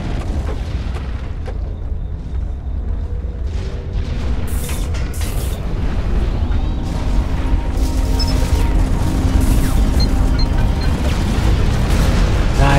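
Dense, rumbling ammunition explosions and booms in Hawken roll continuously, with sharp bursts and crackles layered over a loud, sustained low roar.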